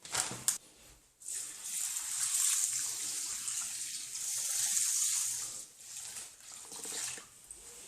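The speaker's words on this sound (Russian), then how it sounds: "Рис заливаю водой." Water is poured from a tap over rice in a bowl to rinse it for Uzbek plov with duck. It makes a close, steady hiss and splash with a couple of brief breaks in the flow.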